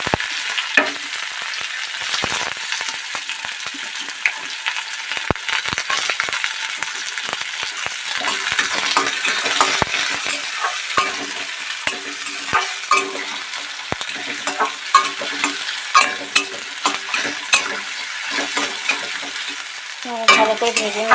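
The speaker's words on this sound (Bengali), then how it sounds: "ভালো করে ভেজে নিতে হবে" Chopped garlic and onion frying in hot oil for egg bhurji, with a steady, close crackling sizzle throughout, broken by the scrape and clatter of stirring in the pan.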